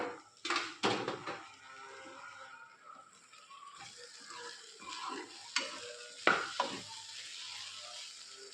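Potatoes and soybean chunks fry in a pan for an aloo sabzi, with sharp spoon-stirring scrapes and clinks over a soft, intermittent sizzle, close by.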